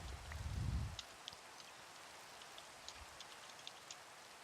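Steady rain patters down in a survival video game, a dense continuous hiss with scattered droplet ticks, briefly joined by a low rumble near the start.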